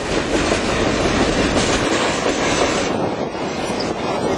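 A freight train passes close by, a steady loud rumble and rattle of railcars carrying trailers mounted on railroad wheels, heard alone without talk.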